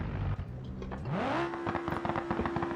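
A damaged rally car engine in the BeamNG driving game revs up in a rising whine, then holds a steady droning pitch with a rough, crackling edge, close and fairly loud.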